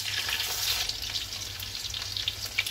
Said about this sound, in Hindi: आलू अच्छे से फ्राई हो रहा है